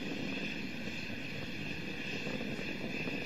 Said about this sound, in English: Three good engines throttling back to 2/3 of the rated thrust.